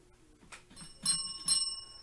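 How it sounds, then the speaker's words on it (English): A small bell rings with a few quick, bright dings that ring on briefly, fairly quiet and close, with no talking over them. "Oh my gosh, where's my bell?"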